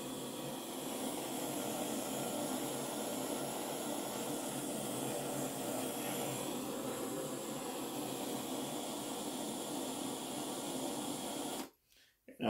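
A torch heats a quartz terp slurper banger for rosin, a steady roaring hiss that holds evenly for about eleven seconds before cutting off abruptly.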